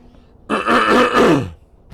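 A single close, loud throat-clearing grunt from a man with a sore throat, a harsh rasping burst of about a second, followed by a faint click.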